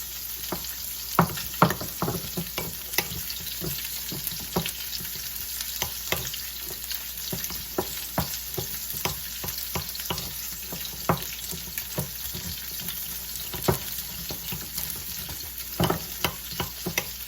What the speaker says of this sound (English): So let's go ahead and stir up our honey butter.